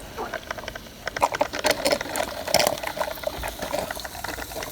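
A Walmart drip coffee maker brewing, with close, irregular bubbling and gurgling as water boils up through the machine, plus light patter and hiss in steady bursts.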